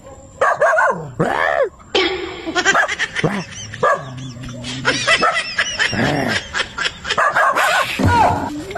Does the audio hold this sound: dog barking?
yes